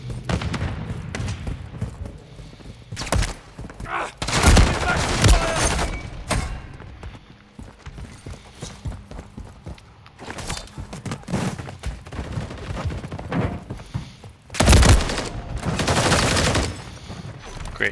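Call of Duty gunfire: loud rapid automatic bursts and heavy thumping impacts in waves, with quieter gaps between volleys and voices under the shooting.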